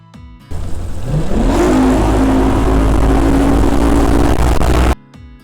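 Bass fishing boat engine revving as the throttle is pressed slowly, a loud steady drone that climbs in pitch then holds high for several seconds before cutting off abruptly.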